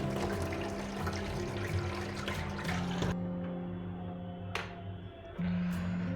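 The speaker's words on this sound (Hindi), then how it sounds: "और थोड़ा सा पानी हम दे देते हैं फिर से।" Water poured into an RO water purifier during servicing, a steady close pour and trickle over a constant mechanical hum, with a few brief splashes and no talk.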